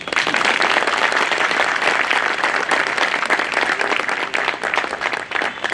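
Applause at a Bar Council of Delhi enrolment meeting, a dense, steady wash of many hands clapping together from a large gathering, sustained and fairly loud throughout without pause.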